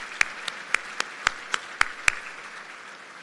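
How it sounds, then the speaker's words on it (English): A handful of separate, sharp claps at a civic state-of-the-city gathering, about eight evenly spaced hand claps over a few seconds, sparse and distinct rather than a full ovation, fading out at the end. "would you join me in a round of applause for everybody I recognize?"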